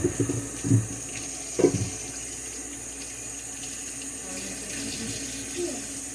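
Tap water runs steadily into a sink where a stained item is left to soak, a faint continuous flow with a few brief splashes near the start, heard alone.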